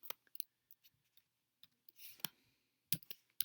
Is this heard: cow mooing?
no